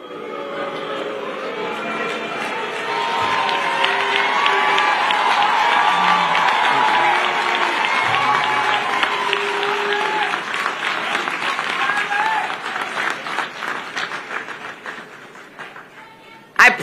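Large crowd noise at an FDNY event, a sustained broad roar of many voices with clapping and scattered shouts that builds over several seconds and then slowly fades, with a sharp burst at the very end.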